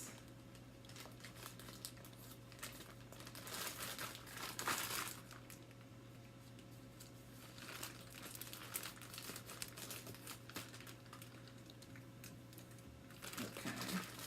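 Plastic package bag being cut open with scissors, quiet bursts of crinkling and rustling plastic that come and go close by, with a faint steady hum underneath.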